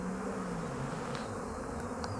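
Honey bees from hive 15 buzz steadily around the beehive, a continuous near drone with a few brief higher insect passes and no voices.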